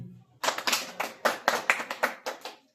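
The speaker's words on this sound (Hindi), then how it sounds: "सभी के लिए क्लैप करो, ताली।" A classroom of students claps together for everyone during a Hindi and Sanskrit lesson, with about ten quick, fairly even claps filling the room after a brief pause, loud and close.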